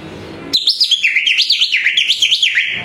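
A loud, warbling whistle rises and falls quickly in a rapid trilling rhythm, imitating a peacock call, made by a person whistling with fingers against the tongue.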